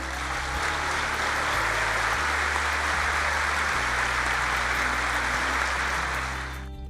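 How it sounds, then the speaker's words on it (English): A crowd at a memorial ceremony breaks into loud, sustained applause, a thick continuous roar of clapping that holds steady before fading at the end. "please let them know it with the loudest, audacious round of applause that you can give to these incredible people"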